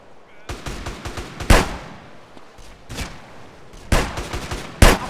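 Submachine gun fire in GTA San Andreas rings out in several sharp, loud bursts spread across the stretch, with quieter game noise between them.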